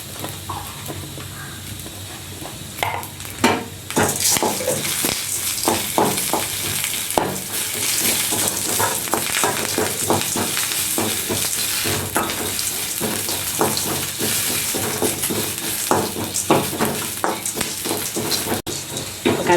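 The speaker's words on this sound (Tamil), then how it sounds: "இப்போ கடலைப்பருப்பும் கொஞ்சம் கருவேப்பிலையும் சேர்த்து வறுக்கணும்." Chana dal and curry leaves fry in hot oil with a continuous loud crackling sizzle, close up, as a spoon stirs and scrapes through the pan in repeated sharp strokes.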